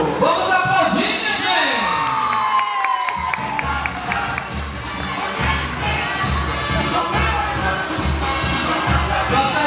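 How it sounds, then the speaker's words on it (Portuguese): Dense, loud crowd noise at a Brazilian carnival event, with cheering, shouting and applause running continuously throughout, plus a brief whistle-like tone early on and a voice over the crowd. "Vamos aplaudir"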